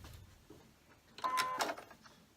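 A sewing machine runs a short burst while stitching a quarter-inch seam on a beginner quilt block, a brief mechanical whir rising after a quiet start, close and moderately loud.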